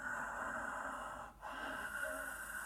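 A voice imitates ujjayi yoga breathing with the mouth shut, a steady raspy, hissing airflow with a brief pause midway, close and fairly quiet, with no words.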